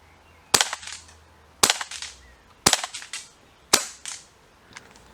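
A green gas airsoft pistol fires 0.45 gram BBs, four sharp loud pops at roughly one-second intervals, each with a short echoing tail, plus a fainter fifth shot at the end, no voices.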